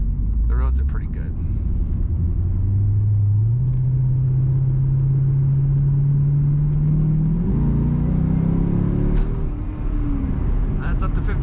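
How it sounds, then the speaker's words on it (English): A 2006 Chevrolet Corvette coupe engine climbs steadily in pitch as it accelerates on a wintry road, then shifts and keeps pulling, loud and close with someone talking over it. "I'll go around the roundabout here and accelerate one more time"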